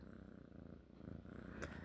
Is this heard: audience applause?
no